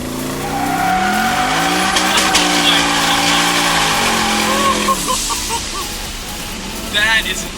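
A turbocharged truck engine revs hard while the brake is dragged to build boost, its rising tone sweeping up loud and steady with a tire-squeal edge, then dropping off near the end as people talk over it.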